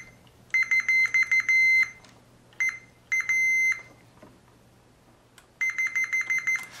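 A multimeter beeps in sharp, steady electronic tones during a continuity check on voltage regulators in a Prophet 5 synthesizer power supply, coming in several separate bursts with quiet gaps between, close and clear.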